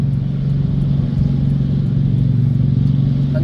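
A military convoy vehicle on a muddy road near moving tanks rumbles past close by, a loud, steady low engine drone with deep throbbing that holds throughout.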